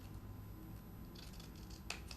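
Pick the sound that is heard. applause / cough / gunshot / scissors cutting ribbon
scissors cutting ribbon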